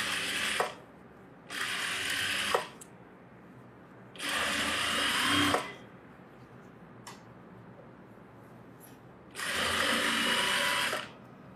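Sewing machine stitching a fancy model blouse, four separate bursts of whirring motor and needle clatter, each a second or two long, loud and close, with quiet gaps between them.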